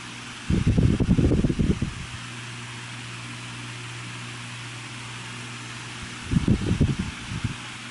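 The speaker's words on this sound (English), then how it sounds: "KH Oscillating 12-inch table fan." A Kuo Horng 12-inch oscillating table fan running on high, its steady whirring hum continuous throughout, with two louder rushing swells near the start and end as the oscillating head sweeps past.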